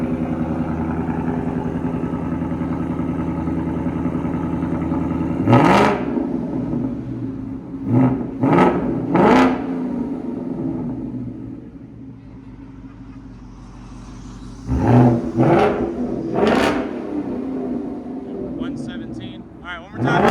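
A 2024 Ford Mustang GT 5.0L V8 with a Borla ATAK cat-back exhaust idles with a deep, steady rumble, broken by a few sharp throttle blips and a couple of clusters of revs.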